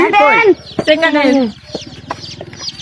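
Chickens cluck and squawk up close at a poultry market, with a loud burst of calls at the start followed by softer clucking over a quiet rhythmic background.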